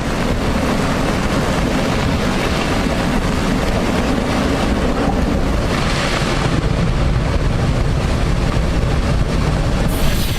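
As a sound effect, sea water rushes into a collapsing cave as a loud, continuous roaring surge of water and rumble that swells briefly partway through, with no voices.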